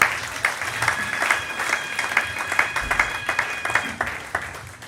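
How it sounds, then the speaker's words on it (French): A crowd applauds at a religious wedding in an evangelical church, with steady, dense clapping that runs throughout and a faint sustained tone beneath it. "Est-ce que tu peux acclamer pour toi-même?"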